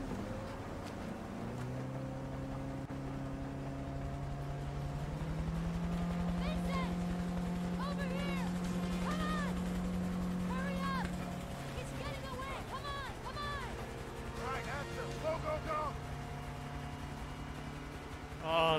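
A boat engine running in the video game A Way Out, a steady droning hum that holds throughout while people talk and shout over it.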